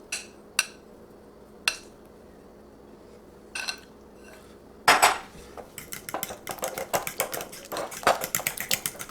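Egg and chocolate batter for keto brownies being mixed in a bowl, a few separate clinks of a utensil against the bowl, then quick, busy scraping and tapping strokes, close by with no talking.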